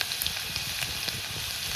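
Thin slices of garlic and ginger frying in hot oil, a soft steady sizzle dotted with small crackles and pops, fairly quiet and close, with no talking.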